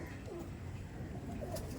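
A Delhi Madrasi pigeon gives low, muffled coos close by against a steady background rumble, faint and continuous over a couple of seconds.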